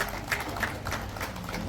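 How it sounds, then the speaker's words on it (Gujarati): Audience at an annual general meeting of a district cooperative sales union clapping to welcome a member of parliament, a brief crowd clapping with some murmuring in the background. "સૌ તાળી પાડી એમનું સ્વાગત કરીશું"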